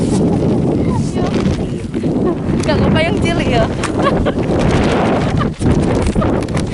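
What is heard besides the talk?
strong whirlwind wind while fishing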